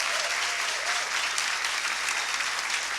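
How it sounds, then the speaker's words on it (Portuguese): Sustained applause from a packed auditorium crowd at a Brazilian women mathematicians' meeting, dense steady clapping filling the room at even loudness throughout, with no one speaking over it. "eu queria uma salva de palmas para esse auditório lotado."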